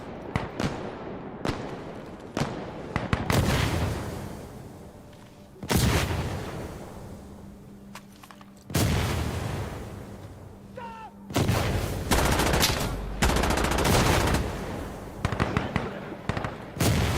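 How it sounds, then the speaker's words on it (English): Artillery fire in the video game Insurgency Sandstorm: repeated heavy booming blasts with rumbling decays, some near and loud, mixed with scattered gunshots and battlefield noise. "That's artillery!"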